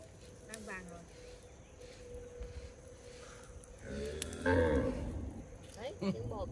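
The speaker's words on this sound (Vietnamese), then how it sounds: "Đấy, tiếng bò kêu đấy." Cattle moo in a mountain setting with a drawn-out low call, rising louder in the second half and fairly close, over steady outdoor background noise.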